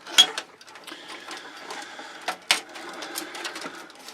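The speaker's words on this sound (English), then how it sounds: "all I was doing was taking screws out" Screws being backed out of an Onkyo TX 108 receiver being scrapped; a close series of small metallic clicks and ratcheting squeaks with a few sharper taps, irregular and quiet, with no voices.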